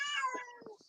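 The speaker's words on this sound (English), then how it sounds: "Hey, Kitty" A cat meows once, a close, bright, descending cry that fades into a few soft trailing chirps.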